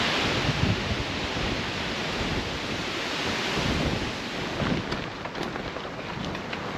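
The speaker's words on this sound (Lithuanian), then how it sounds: "Tokį vėjų dar nesam važiavę." Strong wind roars and buffets the microphone in a heavy, fluctuating rush of noise, gusting louder at times, with no voices.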